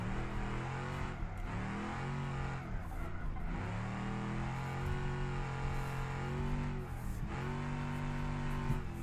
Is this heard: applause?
no